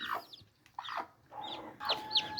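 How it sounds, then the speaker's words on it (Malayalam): A mother hen with her chicks clucks nearby in four short bursts, the last ones louder and more insistent, with quiet pauses between them. "ഇവളാണ് തള്ളക്കോഴി അതിൻ്റെ കുഞ്ഞുങ്ങൾ ഇതിലുണ്ട്"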